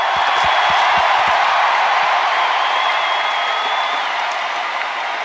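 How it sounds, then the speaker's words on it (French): Sustained applause from a large arena audience in Montreal's Centre Bell, a dense broadband clatter of clapping held steady throughout, with a few low thumps early on. "j'aimerais ça qu'on lui donne une bonne main d'applaudissement"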